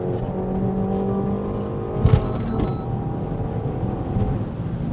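Volkswagen Golf R engine accelerating, a steady rising drone heard from inside the cabin with a faint bump partway through, moderately loud and continuous.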